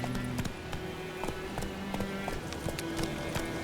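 Horse hooves clip-clopping at a quick, running pace in The Witcher 3, a steady rhythmic patter of hoofbeats over a busy game soundscape with faint tonal hum.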